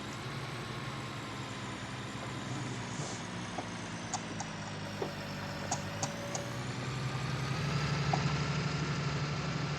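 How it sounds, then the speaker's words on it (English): A tractor engine in Farming Simulator 19 idles with a steady, low continuous rumble, with faint clicks and a slight rise in loudness near the end. "Really is a nice sounding tractor."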